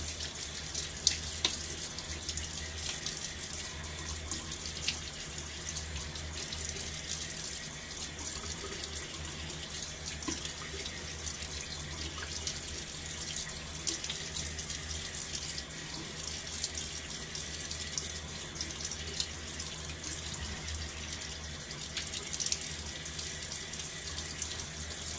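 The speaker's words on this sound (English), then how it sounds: "This does include the rinsing of equipment to prepare it for the next day" A tap runs steadily while double-edge shaving equipment is rinsed at a sink: a continuous, even hiss of flowing water with faint clinks, moderately quiet and alone throughout.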